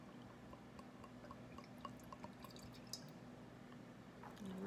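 Red Merlot wine trickles from the bottle into a wine tasting glass, a faint liquid pour with scattered small drips against a quiet background hum.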